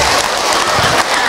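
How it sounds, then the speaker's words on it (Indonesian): A live audience claps for the mothers in a dense, steady wash of applause that runs loud and unbroken throughout, with a faint mix of crowd noise. "Tepuk tangan buat Bunda semua."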